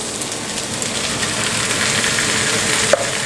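Tofu and tinned tomatoes going into a hot frying pan, a loud, continuous sizzle and crackle close by that holds steady with a small clatter near the end and no talking.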